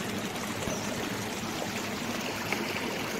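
Water from a stream and waterfall behind a resort in Chanthaburi, Thailand, rushes steadily in a dense, even wash, moderately close and without voices.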